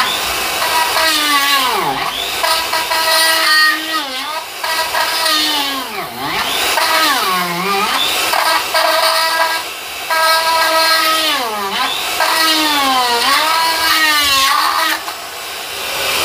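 Hand drill boring into dead wild olive wood, a loud, close whine that rises and falls as the bit bites and slows under load, in repeated strokes with brief dips.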